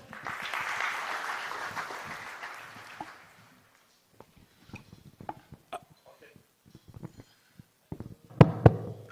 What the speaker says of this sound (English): Let's clap for Dr.